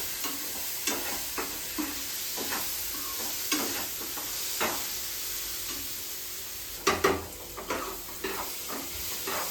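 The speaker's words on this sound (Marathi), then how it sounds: "आणि आपला कांदा देखील परततोय." Chopped onion sautés in a pan on a home stove, a steady close sizzle under intermittent scraping and stirring taps of a spatula, with a louder cluster of stirs near the end.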